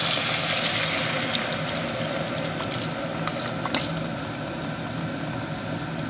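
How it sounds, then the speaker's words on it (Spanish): Lactose-free semi-skimmed milk pours steadily into a pot of courgettes softening in olive oil, a continuous liquid rush over a low background hum, with a few clinks near the end. "se le agrega 200 mililitros de leche sin lactosa semidesnatada"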